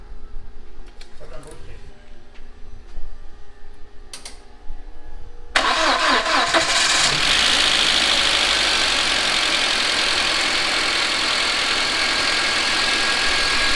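A 1977 Chevrolet C10 V8 engine, freshly retimed after being out of time, cranks and fires up, then settles into a steady, loud, close idle with some lifter ticking; faint talk and clatter come before the start.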